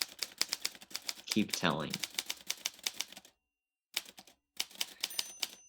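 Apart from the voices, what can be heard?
typewriter typing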